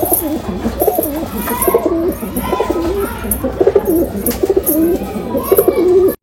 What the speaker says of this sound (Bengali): খুব সুন্দর পায়রা, খুব দারুণ পায়রা